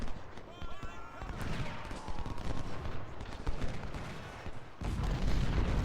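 Cannon and musket fire in the video game Ultimate General Civil War, including 24-pounder guns, forms a dense continuous roar of battle with overlapping shots and booms at steady loudness and a heavier surge near the end.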